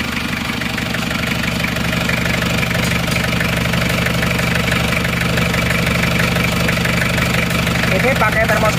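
An Isuzu Panther diesel engine runs loud and near with a steady, slightly knocking idle, held evenly for several seconds as a voice speaks over it.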